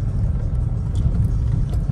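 An XUV car pulls up nearby with a low, continuous engine rumble and some light rattling over a couple of seconds.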